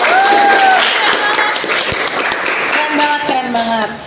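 Applause from an audience at a talk event, a rough wash of clapping mixed with a speaking voice over it.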